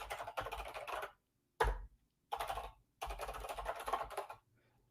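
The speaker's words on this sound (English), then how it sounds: "Flynn, you're actually typing instead of you running the script that does all this for you" Rapid clattering keystrokes on a computer keyboard come close up in several bursts separated by short pauses, with one brief isolated tap in between.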